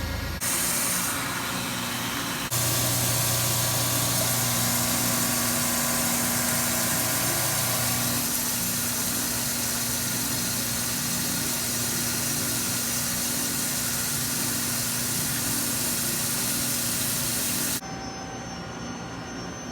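A CNC machine rigid-taps holes in a titanium hull cap fixture, with a loud continuous whir and hiss of spray whose pitch shifts in stages before cutting off near the end.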